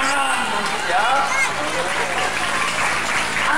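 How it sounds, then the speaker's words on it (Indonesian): Applause from an audience at a school Christmas celebration and thanksgiving mass at Pius school in Pemalang, a steady, dense clatter of clapping running throughout with voices talking over it. "Tepuk tangan, ya."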